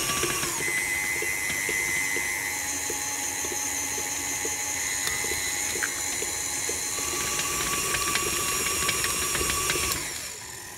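A stand mixer with a paddle beating choux pastry dough as eggs are worked in, a steady close mechanical whir with rhythmic knocking of the paddle, running continuously before slowing at the end.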